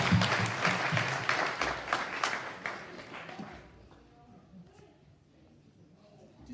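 A church congregation applauding during a worship service: loud, rapid, sustained clapping that fades away after about three seconds, leaving quiet room murmur.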